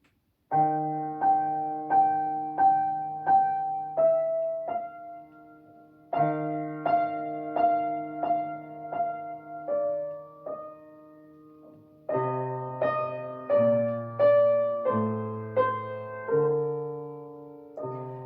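A simple piano tune played with both hands, a melody over repeated low notes, in three phrases with short pauses, clear and unaccompanied; Grieg's Arietta.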